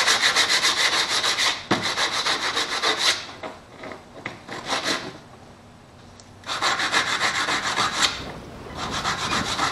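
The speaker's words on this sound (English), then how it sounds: "this black part, so I'm just going to give that a sand." Hand sanding of a black clutch part, long rapid back-and-forth rasping strokes in steady bursts with a brief pause midway, close and loud with no talk.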